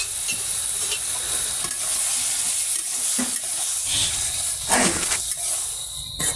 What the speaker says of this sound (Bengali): তালের শেষগুলো দিয়ে সুন্দর করে কষাবো